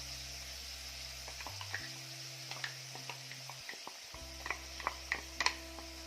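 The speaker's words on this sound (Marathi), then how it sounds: "तर मिरचीचा आणि लसणाचा कच्चेपणा जाईपर्यंत हे छान परतून घ्यायचं आहे" Chili and garlic sautéing in a generous amount of oil in a pan for a spinach (palak) dish. A steady soft sizzle runs throughout, with scattered spoon scrapes and taps that grow sharper toward the end, over a low constant hum.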